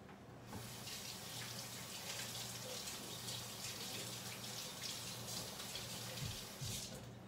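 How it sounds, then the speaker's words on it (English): Water runs steadily from a kitchen tap during hand washing in a country home cooking session, a continuous, even splashing hiss that lasts the whole stretch with a few brief splatters near the end. "gotta wash my hands"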